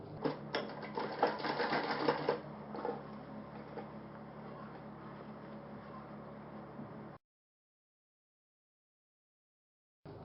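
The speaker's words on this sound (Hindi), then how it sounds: "अब ये यहां से सिलाई आप चढ़ाइए।" A sewing machine stitches a shirt sleeve cuff in a fast continuous run, loudest at the start then steadier and quieter, before stopping into silence near the end.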